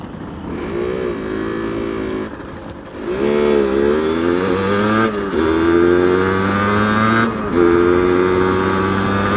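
A Beta 50 RR motorcycle engine buzzes loudly and close up while riding, rising and falling in pitch through repeated throttle surges and gear changes.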